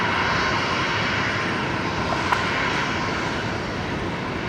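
An Emirates jet lines up on runway 19 left at Brisbane Airport at night, its engines a steady, loud, broadband roar that holds unbroken throughout with no voices.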